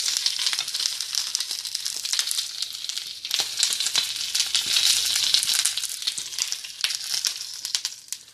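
Short ribs sear in a hot pan, giving a loud, close, crackling sizzle with bursts of spattering and hiss that rise and fall over several seconds, no talking.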